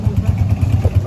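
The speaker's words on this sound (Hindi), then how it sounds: "तो एक बाइक निकली" A motorcycle engine putters close by in a steady pulsing rhythm, heard briefly along a street near a hotel.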